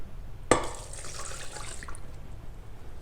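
Warm milk poured into a stand mixer bowl holding yeast for a brioche dough, a sharp start followed by a short liquid splash and trickle, close and clear over a low background hum.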